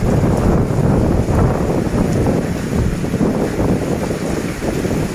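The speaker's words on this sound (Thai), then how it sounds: "ฝนฟาดเข้ามานะครับ" Dense, roaring noise of wind-driven rain battering a railway station steadily and loudly, with gusty buffeting throughout and no voices.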